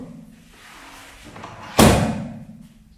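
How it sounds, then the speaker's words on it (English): A recording studio's second door swings shut with a single sharp slam partway through, ringing briefly before fading, after quiet handling noise; nobody speaks. "So I'm just going to close the second door."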